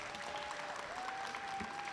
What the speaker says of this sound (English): can we give them another round of applause?